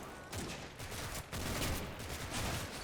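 Machine gun fire in the WWII game Combat Mission: Battle for Normandy rattles in repeated distant bursts over a noisy battlefield background, fairly faint, with no voices.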